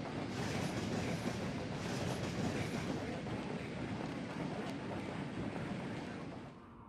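A train rushes through the platform at Blacktown station without stopping, a loud continuous roar with rail clatter that holds steady and then eases off at the end.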